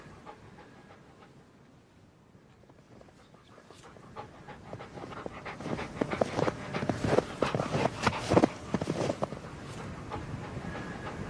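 A dog panting on an evening outdoor search for an old man, in a radio drama adaptation: faint at first, then louder rhythmic breaths and shuffling footsteps building toward the end, with no talk.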